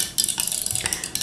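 A utensil scrapes and clinks against a container while stirring a homemade donkey milk shampoo mixture with oils and a foam-boosting surfactant, several quick close scraping strokes in a short burst, no voices.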